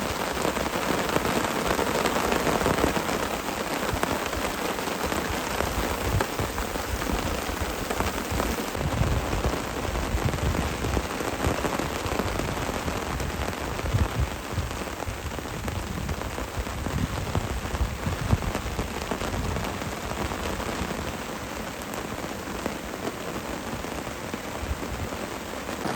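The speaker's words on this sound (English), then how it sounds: "but my Christ, it's raining." Heavy rain pours during a thunderstorm at a wild campsite, a dense continuous hiss of drops drumming on a tarp, steady and close throughout, with no voices.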